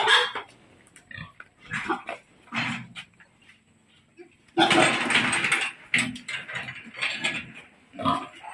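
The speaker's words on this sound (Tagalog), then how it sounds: "Ito yung paraan namin sa pagkuha ng baboy." Pigs being caught and handled for sale on a small farm: loud, close squeals and grunts in repeated bursts, one sharp outcry in the middle, with some handling noise and people nearby.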